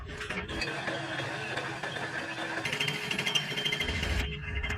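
A lathe in Pakistan machining a tractor driveshaft, giving a steady metallic grinding and scraping that grows harsher and more clattery toward the end, close and loud throughout.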